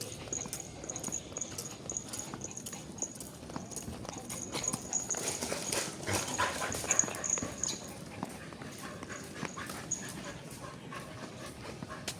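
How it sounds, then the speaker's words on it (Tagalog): Faint dog sounds, soft panting and whimpers, mix with rhythmic clip-clop footfalls, heard quietly from a short distance. "Kaya pala may aso pala doon."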